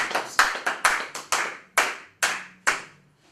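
Applause in a church congregation praising the Lord, heard as about nine distinct, sharp hand claps in a loose, uneven rhythm, each ringing briefly, with no voices over them.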